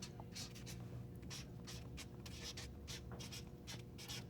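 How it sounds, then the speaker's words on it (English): Soft scratching of a pen or pencil writing by hand, short repeated strokes at close range and low volume against a quiet room hum, with no talk. "So I'm going to write here"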